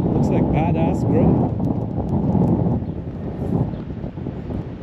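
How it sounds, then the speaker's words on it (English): Strong wind buffets the microphone on a beach where the bay meets the ocean, a loud, steady rumbling roar throughout, with a person talking over it. "Got windy down this end of the beach."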